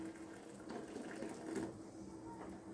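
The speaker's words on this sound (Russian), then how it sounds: "наливаю кипяток в крышку" Boiling water poured from a kettle into a metal jar lid while preserving sun-dried tomatoes, a steady soft trickling splash lasting a few seconds, fairly quiet and close with no talk.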